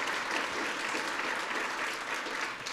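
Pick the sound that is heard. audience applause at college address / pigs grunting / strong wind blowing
audience applause at college address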